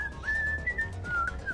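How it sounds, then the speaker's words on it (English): Someone whistles a short, faint melodic phrase of a few sustained notes inside the Max Payne video game, heard alone. "I guess somebody's whistling in the game"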